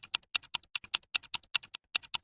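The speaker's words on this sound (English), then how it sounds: "And then this one, which is just a clock." A ticking clock used as a percussive texture in a color bass electronic track, giving a steady run of crisp, bright clicks in an uneven tick-tock pattern, fairly close and dry, with no voices.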